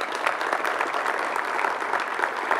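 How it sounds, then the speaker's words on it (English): A brief round of steady applause from an audience at a radio station's winter sports event, dense and even clapping that carries on without pause or talk. "Round of applause for her, please."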